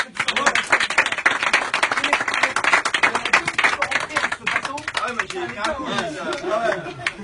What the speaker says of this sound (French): on va vous applaudir quand